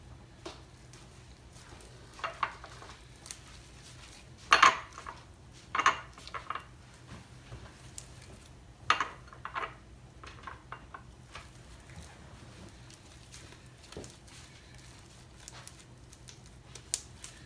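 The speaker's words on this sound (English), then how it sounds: "And just start to knead the slime." Homemade slime kneaded by hand, giving quiet, sporadic squelching and sticky clicking pops, a few louder bursts among soft wet handling noises, close and without talk.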